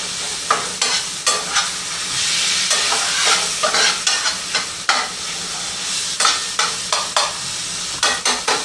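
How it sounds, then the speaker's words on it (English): Ground beef browning in a pan with a continuous sizzle and hiss, broken by repeated scraping stirs of a utensil at a fairly regular pace, close and moderately loud with no talking. "And my meat is almost brown."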